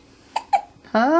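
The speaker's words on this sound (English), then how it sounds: "Do you have the hiccups, little cutie?" A baby hiccups twice in small, sharp bursts, then a longer vocal sound follows, loud and close, with a spoken word from an adult mixed in.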